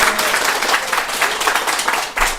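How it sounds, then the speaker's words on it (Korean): An audience bursts into sustained applause for a speaker at a Korean lecture on wealth, dense steady clapping filling the room at close range without pause. "다시 한번 박수 부탁드리겠습니다."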